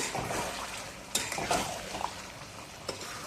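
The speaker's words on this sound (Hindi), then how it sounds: "ये 1 चम्मच भर के केचप है, टमाटर केचप। इसको मिक्स कर देंगे।" A spoon stirs tomato ketchup into chicken chilli in a hot pan, the sauce sizzling steadily while the utensil scrapes and clinks against the metal a few times.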